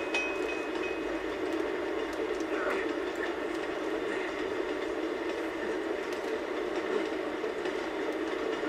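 A train in the video game Uncharted 2 rolls along with a continuous, even rumble and faint rhythmic clatter, steady throughout with muffled voices low in the mix.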